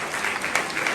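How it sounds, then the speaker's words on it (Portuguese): A church congregation applauds together in a dense, steady wash of clapping, close and fairly loud throughout, with faint voices mixed into the crowd noise. "Vamos aplaudir todo mundo aí."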